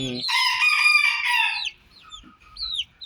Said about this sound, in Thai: ก็เลี้ยงไก่ครับ ว่างๆก็มาเลี้ยงไก่